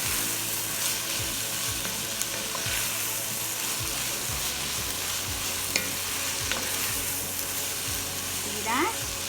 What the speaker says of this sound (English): But I'm putting some eggs in mine.